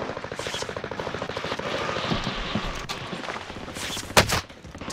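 Rapid automatic gunfire rattles in a video game shooter, with dense bursts rolling across five seconds and a sharp, loud shot standing out near the end.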